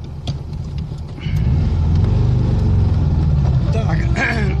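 A ZAZ-965 car engine catches at about a second in and settles into a loud, steady, rough idle rumble that builds as the car pulls away, with voices talking over it.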